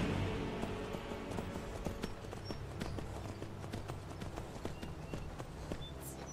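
Horse hooves clopping at a steady trot in the Skyrim video game, a continuous run of close, fairly loud hoofbeats over a low outdoor ambience.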